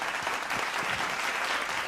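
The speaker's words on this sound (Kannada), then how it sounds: "ನಿಮಗೆಲ್ಲ ಚಪ್ಪಾಳೆ ನಂದು." Applause from the audience of a televised singing reality show, a dense, even burst of clapping that continues steadily throughout.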